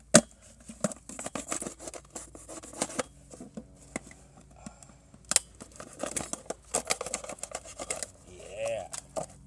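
An Emerson CQC7V clone knife cuts through thick plastic in a series of sharp, irregular snips, cracks and crinkles up close, with intermittent speech between the cuts.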